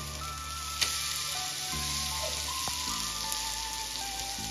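A Mumbai street-style masala pav, a spiced bread roll, sizzles quietly and steadily on a hot pan after being flipped, with a couple of faint clicks and soft background music.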